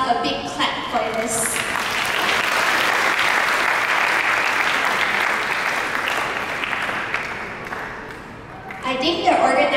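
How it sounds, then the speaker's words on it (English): Audience at a community party gives sustained applause lasting nearly ten seconds, a dense steady wash of clapping that fades slightly near the end before a brief swell, with some voices mixed underneath. "Maybe we give ourselves a big clap for this."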